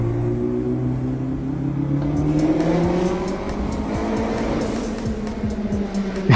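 A modified car with an aggressive aftermarket exhaust revs hard, its rasping engine note climbing and falling in pitch with sharp crackles, loud and close throughout.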